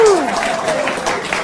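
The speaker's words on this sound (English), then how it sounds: "Give him a round of applause, that's it." Applause from an audience at a live hypnosis show as a volunteer comes up on stage, a dense steady clatter heard with a shout and voices over it for the whole moment.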